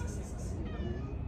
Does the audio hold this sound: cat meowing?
yes